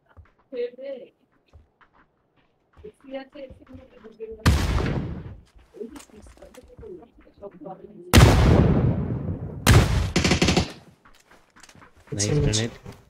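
Grenade blast in a battle royale shooter game, sharp loud booms with decaying rumble among several other bursts, while a player's voice chatters between them.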